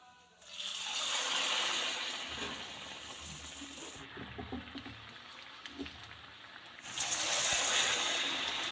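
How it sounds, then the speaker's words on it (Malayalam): Onion fritters (ullivada), Kerala style, fry in hot oil with a loud bubbling hiss that swells at the start, eases to a softer crackle with light clinks, then surges loud again near the end. "നമുക്കിനിത് ഫ്രൈ ചെയ്തെടുക്കാം."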